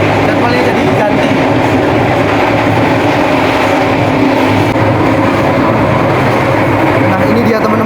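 A passenger train roars along at high speed, about 96 km/h, a loud continuous rumble with rattling wheels and wind noise, heard from close by on board.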